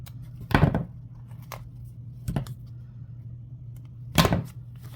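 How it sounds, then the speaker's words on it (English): Scissors snip slits into the corners of embroidery backing for an in-the-hoop dog poop bag dispenser, giving three short, close, crisp cuts spaced apart over a steady low hum. "So now I just take my scissors and I'll just make some slits on the corners."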